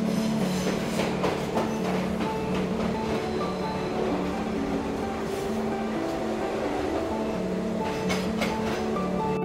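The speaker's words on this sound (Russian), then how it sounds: "Поезд отправляется!" A cartoon toy train pulls away and runs along its rails, a steady rolling rumble with rhythmic clicks and occasional higher squeals, close and continuous with no speech.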